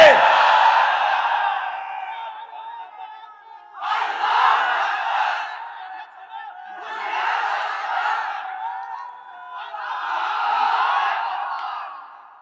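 A large crowd at an Islamic religious gathering roars the takbir chant in four long, loud collective shouts, each swelling and fading before the next, with brief silences between.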